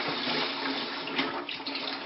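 Water drains and splashes steadily from freshly washed potato chips, the starch rinsed off before boiling and frying; a continuous, fairly loud rushing pour with no talk.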